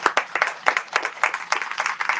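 An audience at a community talk event bursts into applause, a lively patter of many hands clapping at a steady, even rate with no voices over it.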